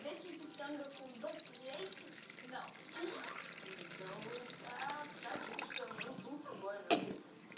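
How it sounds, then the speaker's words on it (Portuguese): Water poured slowly into a powdery mixture to make fake snow for a child's party, a continuous soft splashing and trickling heard under quiet talk from an adult and a child, with one sharper splash near the end. "E agora vamos acrescentar água."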